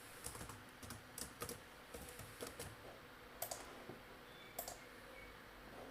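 Typing on a computer keyboard, faint, quick bursts of key clicks with short pauses between them and no voices.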